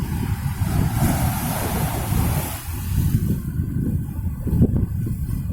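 Big waves surge onto a Red Sea beach in Jeddah with a continuous loud roar and rush of surf, mixed with buffeting wind on the microphone.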